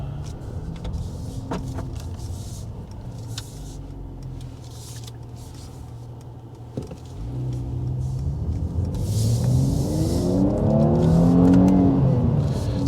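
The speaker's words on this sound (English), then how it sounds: "We're going to drive in manual, we're going to make some pops and bangs" A 400-horsepower Mercedes C43 AMG in manual mode with Sport Plus pulls away, its engine rumbling low before rising into a loud, climbing rev toward the end, with a sharp click partway through.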